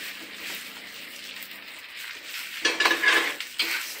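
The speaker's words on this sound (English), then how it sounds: "stir it after that put in the rice into the frying pan." Fried rice being stirred in a frying pan, a utensil clattering and scraping against the metal in a quick burst of close, uneven knocks after a steady low background hiss.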